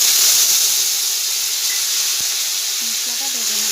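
A ground paste of cumin, coriander, ginger and dried chilli fries in hot oil with panch phoron, giving a steady close sizzle and hiss throughout, with a brief stir clink and faint voice-like tones near the end.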